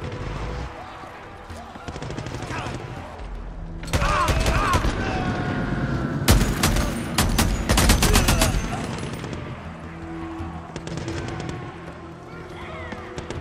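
Gunfire in the zombie game Days Gone, fighting a horde: bursts of rapid shots cluster mid-clip over a steady din of game noise and effects, with a voice talking at points.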